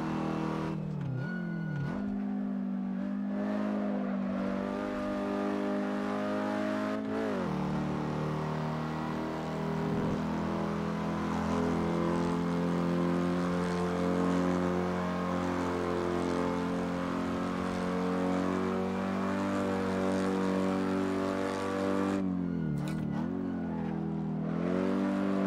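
Alfa Romeo Giulietta Spider engine in the Assetto Corsa racing game, running a 1938 Donington Park race: a loud, steady, buzzy drone held for most of the stretch, with brief dips and pitch shifts near the start and end, like gear changes.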